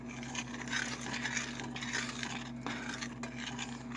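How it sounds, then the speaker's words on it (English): Spoon stirring shredded cheese into creamy chicken in a bowl, a faint, steady scraping and rubbing of metal against the bowl repeated in a loose rhythm, close by and quiet, over a low background hum. "Then I'm going to take my spoon that I stuck in my bowl and stir it in"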